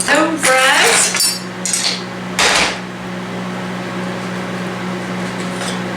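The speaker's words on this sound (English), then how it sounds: "I'm going to cut up my home fries" A butter knife cutting tender crispy home fries on a plate, with loud clinking and scraping of metal on dishware in quick bursts, then a steady background hum.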